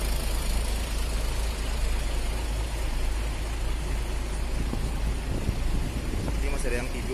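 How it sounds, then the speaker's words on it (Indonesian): A yellow-orange Arimbi intercity bus with a Hino engine idles on the Bandung–Kalideres route, a steady dense low rumble with broadband noise filling the whole stretch, no talk over it. "bis yang warna kuning orange ini. Dengan nomor lambung 1605 Arimbi dengan mesin Hino."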